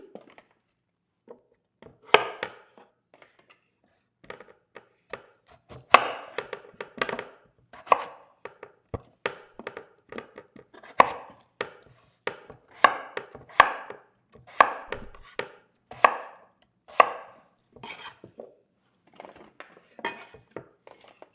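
A knife chops vegetables on a cutting board for a classic French roast chicken, steady uneven knocks and scrapes close by, with occasional clinks of utensils and no voices.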